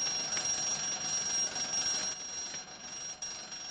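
A school bell rings continuously as classes let out, a steady metallic ringing heard from a moderate distance, holding at an even level without pause for the whole stretch and with no voices over it.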